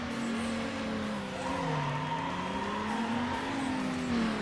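Race car engine from Need for Speed Underground roaring through a drag race, revving steadily upward in pitch with tonal whine, loud and continuous with faint tire noise beneath.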